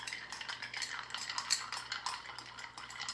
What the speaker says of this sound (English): You just go ahead and stir till it gets chilled.